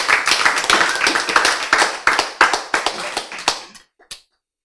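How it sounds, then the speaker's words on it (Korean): A group of people clap their hands at a lecture, a dense run of sharp claps that thins to a few scattered final claps before falling silent. "이때 박수 쳐야지."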